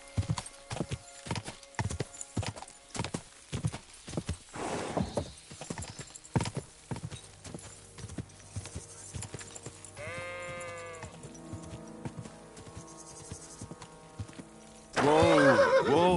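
Horse in Kingdom Come: Deliverance 2, close rhythmic clip-clop of hooves that slows to a walk, then two loud whinnies, one midway and one at the end, with a few faint bleats in the background.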